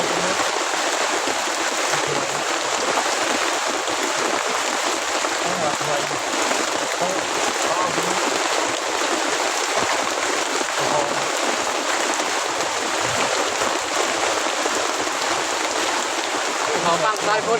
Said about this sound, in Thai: เขาฟังสายฝน